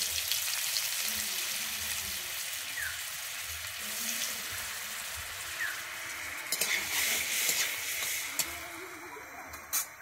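Butter added to hot white oil with a bay leaf in a kadai sizzles steadily, a continuous bright frying hiss throughout with occasional stirring clatter and scrapes near the end, no voices.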